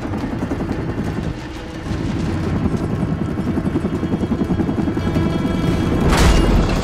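A helicopter approaches in the video game Army of Two: The Devil's Cartel. Its rotor chop thumps rhythmically and grows louder, ending with a heavy boom over battle noise.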